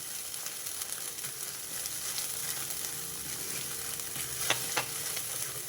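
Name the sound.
masala paste with tomatoes and onions frying in oil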